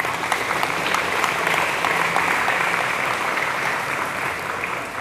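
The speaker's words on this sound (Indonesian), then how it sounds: "Tepuk tangan, Pak." Audience clapping in response to a story about a madrasah head, a steady, dense applause from many people sustained at even loudness.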